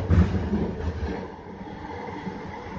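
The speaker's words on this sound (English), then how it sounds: "There's another train coming outbound there." A SkyTrain on Vancouver's Evergreen Line rumbles past heading outbound, a low rolling roar that swells at the start and then fades to a steady hum of the carriage underway.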